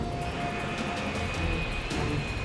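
A China Airlines airliner on final approach just before touchdown, heard as a steady, loud broadband engine roar with a whining tone that holds throughout.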